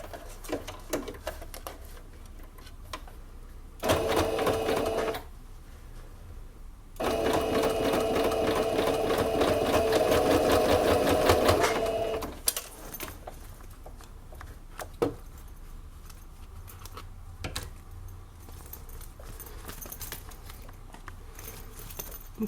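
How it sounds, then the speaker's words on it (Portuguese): A sewing machine runs a safety seam on fabric for an oral hygiene kit, in two bursts of fast, even stitching, the second longer, with quiet handling sounds and small clicks between them. "Pôr um alfinete e passar uma costura de segurança aqui."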